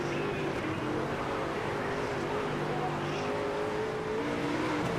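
Sprint car engine in the World of Outlaws racing game, a continuous loud droning roar with a steady pitch that shifts slightly through corners, holding throughout with no pauses.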